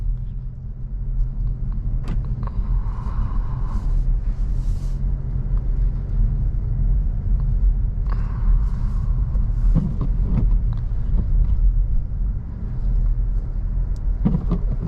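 A 2020 Mazda3 AWD drives through deep snow on a winter road, its steady low engine rumble and tire crunch continuing throughout, with a few brief thumps and scrapes from the car slipping along.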